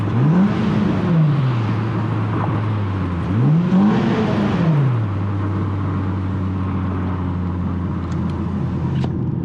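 A 9th generation Honda Accord fitted with coilovers drives along a rough road, its engine revving up twice through the gears before settling into a steady cruising drone heard from inside the cabin.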